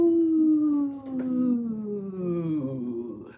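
A human voice imitates a night owl's hoot with one long, sliding, howl-like tone that falls gradually in pitch, close and fairly loud.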